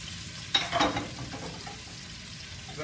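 Onions and carrots dropped into a hot pot for pot roast, with a sharp initial hiss that settles into a quiet, steady frying sizzle.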